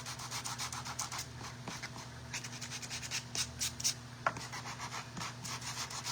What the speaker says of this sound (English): So I'm using my 120 sander, that way I can get off a lot of the paint.